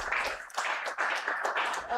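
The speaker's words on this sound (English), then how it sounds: "A big round of applause for our panelists" Audience applause for a panel of speakers at a tech conference, a steady wash of clapping filling the whole stretch at moderate volume.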